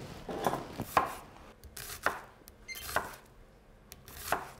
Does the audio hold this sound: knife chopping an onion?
yes